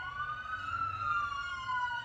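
A police siren wails steadily outside, a continuous rising and falling tone at moderate distance, heard alone without voices.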